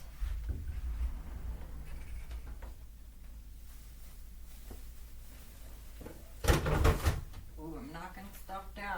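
Craft supplies topple from a shelf in a brief cluster of clattering knocks, following a stretch of quiet rustling and handling. A voice speaks faintly in the background.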